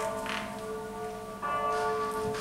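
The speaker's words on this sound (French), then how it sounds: "C'est la cloche du matin." A church bell tolls as a morning bell, its long steady tones ringing out with a second stroke swelling in partway through, alone and fairly close.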